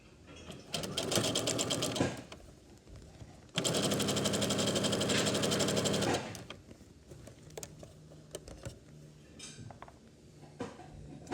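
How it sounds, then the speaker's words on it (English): Sewing machine stitching a skirt, running in two sustained bursts of rapid, even stitching, then stopping for softer handling clicks and fabric rustle nearby. "you put your presser foot back down and continue sewing."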